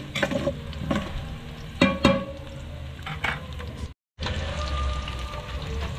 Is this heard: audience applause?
no